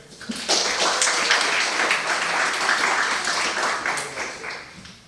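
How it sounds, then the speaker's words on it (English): Students at a general body meeting of the student government applaud the new academic year, a burst of clapping that swells quickly, holds steady for several seconds and then tapers off. "can we get a round of applause for this new academic year?"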